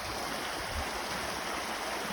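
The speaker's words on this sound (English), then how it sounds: "Nice little creek here" A small creek flowing at a campground near Blowing Rock, NC, a steady close broadband rush of water with no voices.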